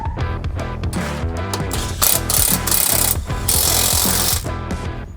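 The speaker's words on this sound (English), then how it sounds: "we're going to use a ratchet first to make sure we've got it seated" A ratchet seating a bolt during a suspension spring kit install on a Can-Am Maverick R, producing a loud, close run of rapid clicking and metallic rattling strokes with short pauses between bursts, no voices.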